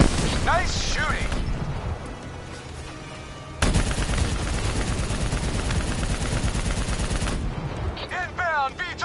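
Heavy gunfire from the Call of Duty Black Ops 3 campaign roars almost nonstop, with dense overlapping rifle bursts and booming impacts that intensify midway, while shouting voices break through at the start and end.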